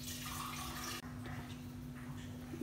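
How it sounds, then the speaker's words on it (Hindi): Roughly two jugs of water pour steadily into a cooking pot for chicken corn soup, a continuous close, loud rushing splash that shifts slightly in tone partway through, with a constant hum underneath. "इसमें मैं तकरीबन 2 जग के करीब पानी डालूंगी"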